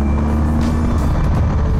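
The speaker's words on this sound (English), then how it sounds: "So the twin cylinder sound, where you hear significantly different firings, just blends into one as the revs climb." A BMW 1250GS twin-cylinder motorcycle engine runs loudly and steadily up close, a low, continuous rumble with a constant drone and no distinct rev swells.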